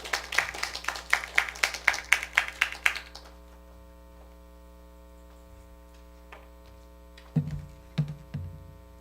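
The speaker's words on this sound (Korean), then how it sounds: "큰 박수 부탁드리겠습니다." An audience at a church group meeting claps briefly and sharply for a speaker about to give a testimony, then the room falls to a quiet electrical hum broken by a few soft knocks and bumps.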